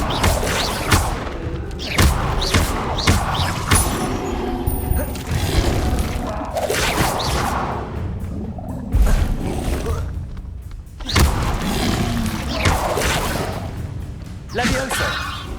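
Spell effects in Hogwarts Legacy gameplay, including Incendio fire casts: repeated booming whooshes and thuds in bursts across the clip, loud and close, with a voice talking over them.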